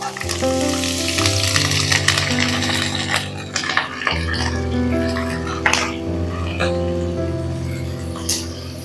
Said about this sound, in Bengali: শাক আর আলুটা একটু তেলের সঙ্গে ভাজা ভাজা হোক